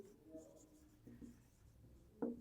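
A pen scratches across paper in faint, short strokes, quiet and close, with a brief louder voice sound right at the end.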